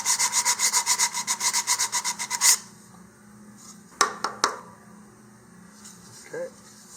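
Sandpaper rubs back and forth in a quick even rhythm on rocket motor mount material, about a dozen close rasping strokes, then a few scattered knocks and a soft scrape as the work is set down.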